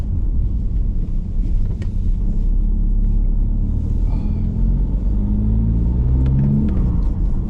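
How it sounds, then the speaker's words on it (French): A Volkswagen Golf 4 engine rumbles and revs, pitch climbing then dropping as it shifts gear, with a faint turbo blow-off hiss and wind buffeting the microphone. "on entend bien là le changement de rapport, le turbo qui souffle"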